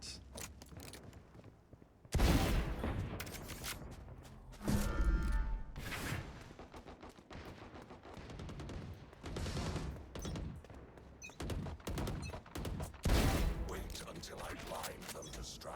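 A Vandal rifle fires in a video game as several loud bursts of rapid shots, separated by quieter stretches of mechanical clicks and thuds.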